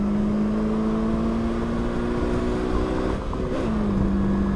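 A 2021 Polaris Slingshot R three-wheeler accelerates hard through its gears, a steady loud engine drone rising in pitch, dipping briefly at a shift near the end and then climbing again, close and continuous with no talking.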